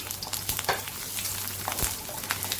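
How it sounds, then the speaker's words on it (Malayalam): Green chilies, ginger and garlic frying in a pan, close crackling sizzle with sharp pops and a few stirring scrapes, brief and steady with no voices. "ശേഷം പച്ചമുളക്, ഇഞ്ചി, വെളുത്തുള്ളി ഇതെല്ലാം ഇട്ട് കൊടുക്കാം."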